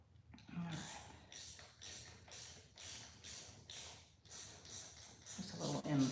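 A Loctited M5 bolt is being worked loose with a ratchet, giving a close series of about eight rhythmic clicking, creaking strokes, fairly quiet and evenly spaced.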